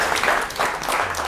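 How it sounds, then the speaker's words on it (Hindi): Loud, dense applause from a TV studio audience, a continuous wash of close clapping that surges in waves across the short stretch. "जोरदार तालियां।"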